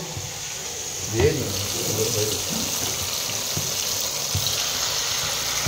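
Nafu greens frying with chilies and onions in a pan give a steady, soft sizzle that hisses continuously throughout, with a few faint clinks of utensils over the top.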